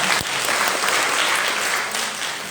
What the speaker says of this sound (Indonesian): Sekali lagi boleh berikan tepuk tangan yang meriah buat Tuhan kita.